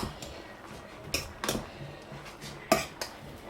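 Fried rice being stirred in a pan, with a few scattered metal scrapes and clinks of a utensil against the pan, close and fairly quiet, with long pauses between the strikes.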